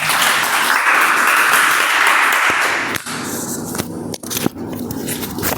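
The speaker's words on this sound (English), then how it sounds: "Applause should go on till I click on the mic." Toastmasters meeting audience claps as a speaker takes the stage, a full round for about three seconds that fades into sparse individual claps and small handling noises.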